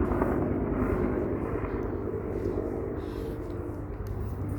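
A helicopter flies overhead in a Japanese town, its steady, loud rotor and engine roar filling the whole stretch without a break.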